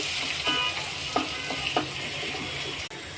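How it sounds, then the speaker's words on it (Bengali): Bay leaf, chili and onion frying in oil, a steady close sizzle broken by a few scraping stirs of a spoon across the pan, with no talking. "তেল দেওয়ার পর আমরা এখন করে তেজপাতাটা দিয়ে দিলাম, তারপর মরিচ এবং পেঁয়াজটা দিয়ে দিলাম। দেখেন একটু লাড়াচাড়া করছি"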